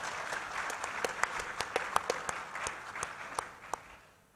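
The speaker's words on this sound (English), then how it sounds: "Please give a round of applause to Excellency Muwabe." An audience applauds at a panel discussion on strategic industry and economic diplomacy, a room full of clapping with a few sharp individual claps standing out, fairly quiet and distant, tapering off toward the end.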